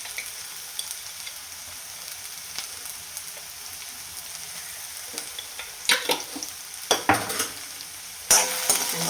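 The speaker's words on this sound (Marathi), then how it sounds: "तेलामध्ये बटाटा आहे छान परतून घ्यायचा" Potato pieces fry in oil for sabudana khichdi, a quiet steady sizzle that turns into louder crackling bursts and utensil scrapes toward the end.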